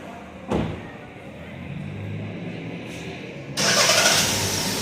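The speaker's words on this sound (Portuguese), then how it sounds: "Agora vamos dar partida no veículo." A Fiat Pulse Turbo 200 (2023) has its engine started: a short starter crank, a low idle, then a loud surge as the engine catches and settles into a steady close-up running roar.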